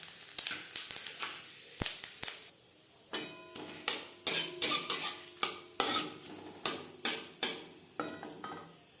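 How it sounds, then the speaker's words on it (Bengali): Dried chillies, bay leaves and whole cumin fry in hot refined oil with a soft sizzle, while a utensil stirs and scrapes the pan in repeated sharp clattering strokes, close and fairly loud. "4 চামচ রিফাইন্ড অয়েল গরম করে নেওয়ার পর ফোড়নে দিয়ে দিলাম 2 শুকনো লঙ্কা, 2 তেজপাতা, গোটা জিরে।"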